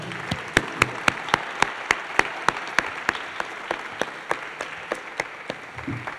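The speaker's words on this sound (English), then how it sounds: "And give him a big clap, I would say." Audience applause at a charity pitch event, with claps falling in a strongly synchronized rhythm, regular sharp beats roughly twice a second over a bed of scattered clapping that gradually softens.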